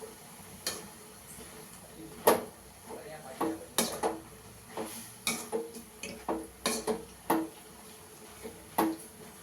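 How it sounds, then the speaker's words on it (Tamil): Drumstick leaves and tomato leaves being stir-fried in a pan, a utensil knocking and scraping against the metal in irregular bursts of clinks, close by, with no talk. "இப்போ அதை நல்லா கிண்டி விடுவோம்."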